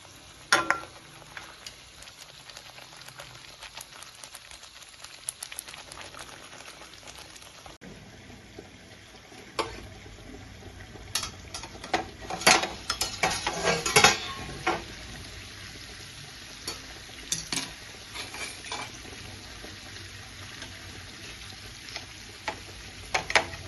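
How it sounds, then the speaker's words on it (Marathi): Fish gravy masala stirred in a pan until the oil separates: a quiet sizzle at first, then bursts of a spoon scraping and clinking against the pan, growing busier toward the end. "असंच गिरवीला हलवत राहायचं आहे"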